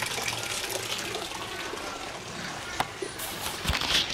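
Water gushes and splashes steadily out of an old stone trough, close and continuous, with a few brief knocks near the end.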